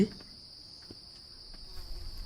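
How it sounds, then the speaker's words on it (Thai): Flies buzz around garbage in an abandoned house in the horror game 9 Childs Street, a steady high insect drone that runs quietly through the whole stretch without speech. "มีเสียงแมงวันตอมด้วยนี่ไง"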